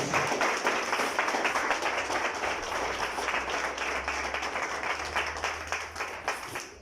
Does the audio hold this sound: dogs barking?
no